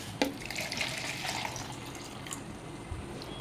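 Lukewarm water splashes and trickles briefly into a container, a soft, close pour that fades after a couple of seconds, while bubble solution is being prepared.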